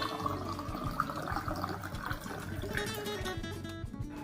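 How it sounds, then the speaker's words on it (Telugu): Water is poured into a glass for sabja seed sharbat, a soft continuous splashing and trickling heard up close and fairly quietly, without talking. "మనం వాటర్ పోసుకుందాం."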